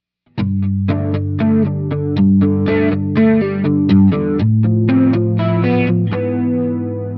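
An electric guitar through a Browne Gritador distortion pedal with chorus plays a sequence of distorted chords and notes with a shimmering chorus effect, loud and close, with no voices.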